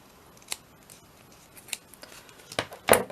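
Several crisp snips of scissors cutting paper, sparse and close at first, then a louder final cut near the end.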